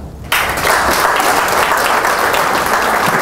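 Audience at a medical conference bursts into applause, a sudden dense wash of clapping from many hands that starts abruptly and holds steady and loud for about three seconds.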